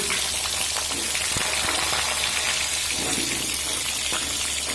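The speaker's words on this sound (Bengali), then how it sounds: "এবার দিয়ে দেব কেটে রাখা দুরকম আলু" Two kinds of cut potatoes frying in hot oil in a pan for a vegetarian Bengali dish, a steady, close crackling sizzle with faint clinks, no one talking.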